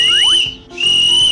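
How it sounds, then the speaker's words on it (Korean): A teacher's whistle at a swimming pool gives a loud, shrill blast that briefly dips and then resumes, with a short rising tone at the start. "선생님이 호루라기를 불며 말했어요"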